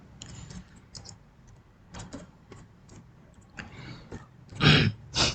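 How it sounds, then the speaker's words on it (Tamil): Typing on a computer keyboard in scattered, irregular clicks, near and fairly quiet, growing louder with a few sharper taps near the end. "நீங்கள் டைப் பண்ணால் டைப் பண்ணிக்கலாம்"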